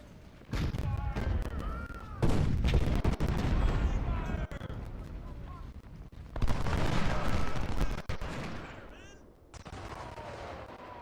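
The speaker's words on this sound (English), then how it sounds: "they're firing on General Porter here" Musket volleys and artillery booms roll across a Civil War battlefield in Ultimate General: Civil War at Gaines' Mill, long loud waves of massed fire with brief lulls, a voice talking over the din.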